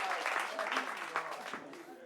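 Scattered audience applause rises briefly in a group setting, the claps mixed under people talking nearby rather than standing alone.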